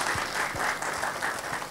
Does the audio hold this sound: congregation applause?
yes